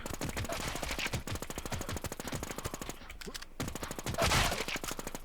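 Automatic gunfire in a shooter video game, long rapid bursts of rattling shots that pause briefly and then resume, loud and continuous.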